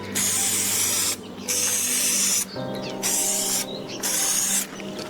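Paint spraying onto 1/6 scale model Bailey Bridge brackets, close and loud, in four hissing bursts about a second long with brief pauses between them.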